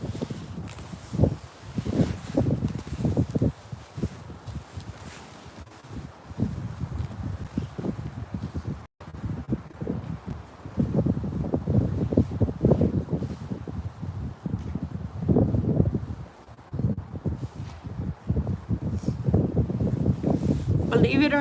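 Gusty breeze outdoors at Crystal Lake, buffeting the microphone in uneven low rumbling bursts that swell and drop over about twenty seconds.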